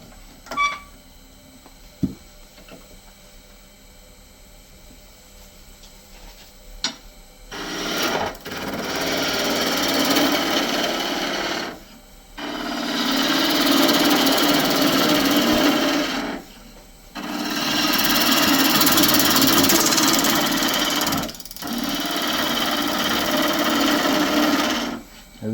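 A spindle gouge cuts into a spinning piece of wood on a lathe in long, steady scraping passes that stop and start with short pauses between them, loud and close, after a quieter stretch of motor hum.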